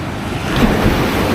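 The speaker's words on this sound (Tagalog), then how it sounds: "ang lapit na pala ng dagat mo" Sea waves washing near the shore, a steady loud surf wash with wind buffeting the microphone.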